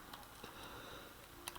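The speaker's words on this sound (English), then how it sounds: "then we get typing on our calculator" Quick taps on the small keys of a calculator, a few scattered clicks at an irregular pace, faint and close against a steady background hiss.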